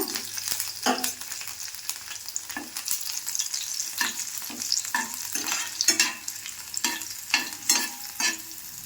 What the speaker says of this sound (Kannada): ಹಾಗೆ ಸ್ವಲ್ಪ ಕರ್ಬೇವಿನ ಸೊಪ್ಪನ್ನು ಕೂಡ ಹಾಕ್ಕೊಳ್ಳೋಣ ಸ್ವಲ್ಪ ಜಜ್ಜಿದ ಬೆಳ್ಳುಳ್ಳಿಯನ್ನು ಕೂಡ ಸೇರಿಸ್ಕೊಳ್ಳೋಣ